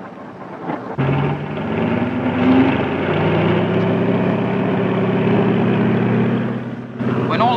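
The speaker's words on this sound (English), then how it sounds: "When all the engines are running" Several propeller aircraft engines run together on a Royal Navy carrier deck in 1942, a loud, steady droning roar with a throbbing low hum that starts abruptly after a second and holds without a break.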